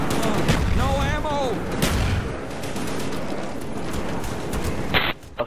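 Rapid gunfire crackles through a zombies video game, dense and continuous under a busy, noisy mix, with a player's voice briefly audible over it.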